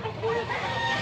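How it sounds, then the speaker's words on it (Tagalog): A blue-legged bullstag gamecock crows once, close and fairly clear over a low background hum. "Manok."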